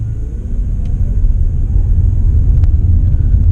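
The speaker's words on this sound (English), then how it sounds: "Now just accelerate a little bit harder to see how many kilowatt we get out of the generator." Steady low rumble of a plug-in hybrid car's engine driving its generator under hard acceleration, a continuous loud drone heard from inside the cabin with no talk.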